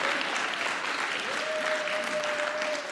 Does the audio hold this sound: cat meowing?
no